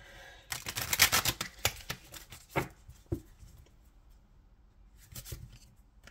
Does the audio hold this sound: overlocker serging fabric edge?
no